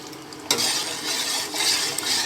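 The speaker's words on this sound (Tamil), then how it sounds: "ஒரு பெரிய கரண்டி வச்சு கிண்டிக்கலாம்." A large ladle scrapes and swishes through thick rice batter in a pot, steady stirring with a faint sizzle underneath.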